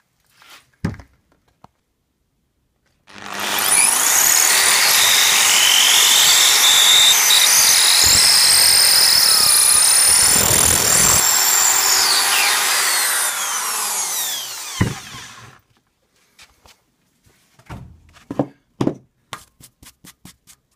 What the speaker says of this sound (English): then we will drill